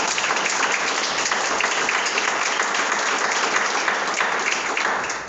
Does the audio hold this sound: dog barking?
no